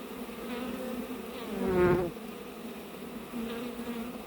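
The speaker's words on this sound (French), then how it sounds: "Il y a 2 beaux essaims qui sont en ruchée, donc ça c'est bon." A honeybee swarm buzzes steadily around a hive during hiving, with one bee passing close by as a louder, brief drone in the middle.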